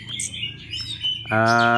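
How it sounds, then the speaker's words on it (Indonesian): A young orange-headed thrush gives short, sharp chirps close by, then breaks into a sustained, loud, harmonic call toward the end. "merawat burung anakan anis merah"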